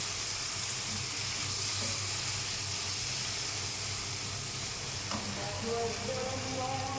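Boiled lentils with their cooking water frying alongside onion in a pan give a steady, close sizzle with soft stirring scrapes, running continuously without talk.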